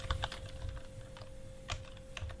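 Rapid typing on a computer keyboard while coding, with clustered key clicks in quick bursts heard close and clear, alone with no speech.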